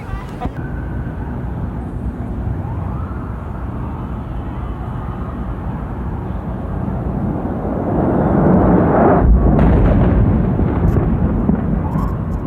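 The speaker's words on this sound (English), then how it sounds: "Another plane just went in. Another tower." Second airliner striking a World Trade Center tower in New York: a sustained low roar of jet noise and traffic swells into a loud, deep, rumbling blast near the nine-second mark that lingers, with shouting voices nearby.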